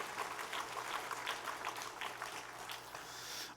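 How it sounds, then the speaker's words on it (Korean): Applause from a church congregation at a 73rd anniversary service in Iksan, a soft, steady wash of many hands clapping at a distance throughout, fairly faint and even. "그 하나님 앞에 영광의 박수로 올려드리겠습니다"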